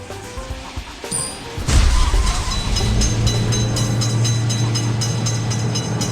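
A train in a video game reaching a level crossing: quiet at first, then a sudden loud rush of rolling rumble that holds steady with a low sustained drone and metallic rattle.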